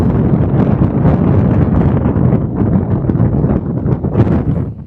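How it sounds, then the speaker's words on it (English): Strong wind gusting across a microphone on a beach at night during sea fishing, a continuous loud buffeting roar that fills the whole stretch with no voices. "that wind that's driving from behind the camera is"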